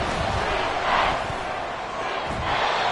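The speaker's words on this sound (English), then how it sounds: "Well, the crowd doesn't like that." A football stadium crowd roars in disapproval after a penalty flag on a third-down play, a loud, dense wall of voices swelling near the start and again at the end.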